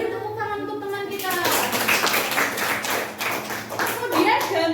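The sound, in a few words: classroom applause for a classmate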